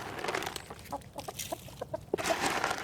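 Chickens clucking outdoors among trees in cold weather, a flock giving short scattered clucks and murmurs at close range over faint background noise.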